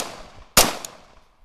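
A Cobray M11 firing outdoors gives one sharp, loud crack followed by a fainter metallic clink, isolated against quiet background.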